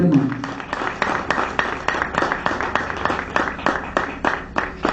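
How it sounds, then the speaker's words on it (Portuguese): Applause from a church congregation after a sermon theme, a sustained stream of overlapping claps with irregular sharp peaks, moderately loud and continuous throughout. "Pode aplaudir o nome do Senhor que você gostou do tema"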